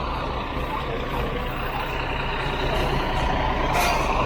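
A truck idles and creeps along a street beneath sagging low power lines, a steady loud engine rumble with a hiss of air brakes near the end and no talking.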